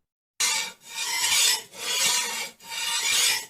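A blade is being ground or sharpened in long, steady rasping strokes, heard outside a door at night. There are four rhythmic scraping passes, fairly close, with no voices.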